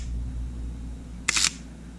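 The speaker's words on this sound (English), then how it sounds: "Oh my god, that's the worst sound in shutter." A Sony A7 camera shutter with sand inside fires once, a short gritty mechanical clatter standing out against a quiet background hum.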